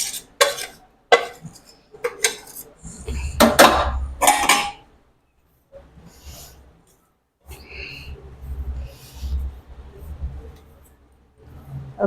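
Homemade ingredients stirred together in a bowl with a spoon: close clinks and scrapes of metal against the bowl in short, irregular bursts, with pauses and soft low rumbling between them.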